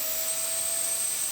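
Vacuum suction on a sanding tool held against a flat surface during a boat refit, heard as a steady, even broadband whoosh with a faint high whine, continuous and unbroken with no talk.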